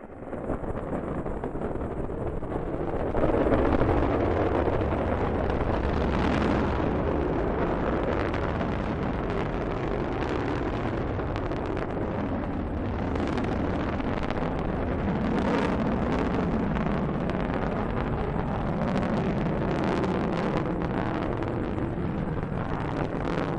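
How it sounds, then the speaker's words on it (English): Delta rocket engines roaring at liftoff carrying the GLAST gamma-ray telescope, a sustained broad rumbling roar that swells after a few seconds and holds steady, buffeted like wind. "liftoff of the Delta rocket carrying GLAST, a gamma-ray telescope"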